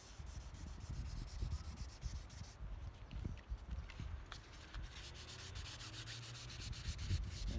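Hand sanding peeling clear coat on a car panel, smoothing out ridges: repeated rough back-and-forth scratchy rubbing strokes, close and fairly quiet, continuing without talk.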